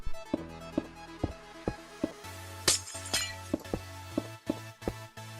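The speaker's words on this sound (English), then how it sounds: "start by removing this glass window and the blocks bordering it to open up the wall" Glass panes being broken block by block in Minecraft, a series of sharp, evenly spaced crisp shattering clinks over a steady low background tone, each break short and close.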